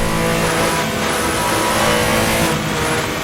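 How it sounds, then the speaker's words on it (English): A Porsche RSR racing car in a racing simulator game holds its engine at high revs and bounces off the rev limiter, a loud, continuous buzzing roar with a rapid stuttering edge, close and alone. "Bouncing off the rev limiter there."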